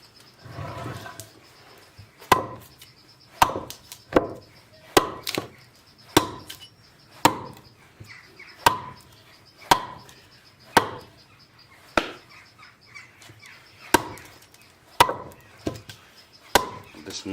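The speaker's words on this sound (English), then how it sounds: "when you chop this way and then the other way, you loosen the big chunks here and you get them off" An adze chops wood while hollowing out the inside of a carved bowl, giving about a dozen sharp, evenly spaced strikes roughly a second apart, near and clear against a quiet background.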